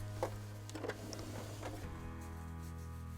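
A sewing machine stitching the edge of a cloth diaper pail liner, a steady faint mechanical hum with a few soft clicks, shifting pitch partway through, close by with no voices.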